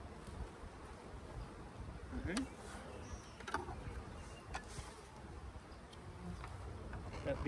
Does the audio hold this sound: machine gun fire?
no